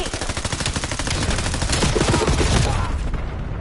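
Rapid automatic gunfire in the Black Ops 7 video game rattles loud and dense with overlapping bursts, sustained over several seconds with heavy impacts.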